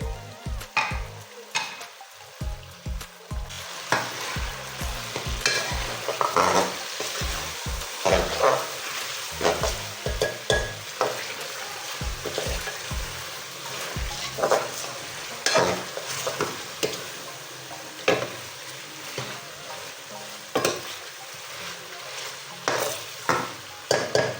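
Chicken fries in a pan with a continuous sizzle while a spoon stirs it, giving frequent clattering knocks and scrapes, dense and rhythmic early, then sparser.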